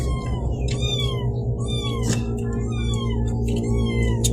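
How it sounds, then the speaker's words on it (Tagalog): Several cats meow repeatedly, overlapping one another at close range over a steady low background hum, in a rural home in the provinces. "Maingay na naman po yung mga pusa"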